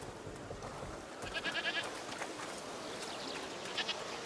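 A few faint goat bleats rise over soft background noise and a little distant chatter.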